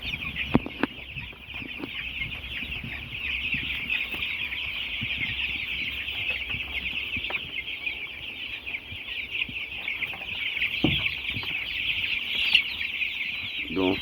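Baby chickens on a chicken farm keep up a dense, continuous chorus of high peeping and clucking from many birds at once, with occasional low thumps and faint voices in the background.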